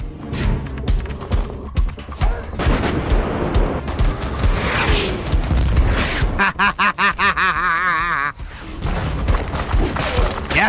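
Booming artillery fire from a Warhammer 40k Death Korps of Krieg battle, loud, heavy thuds and rumbling blasts, partly under excited talk and layered with other noise.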